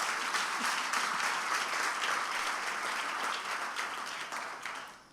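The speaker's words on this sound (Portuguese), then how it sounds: "dê um grande aplauso a Jesus" Congregation applause during a Brazilian church celebration service, a dense, sustained wash of many hands clapping together that holds steady and then fades out toward the end.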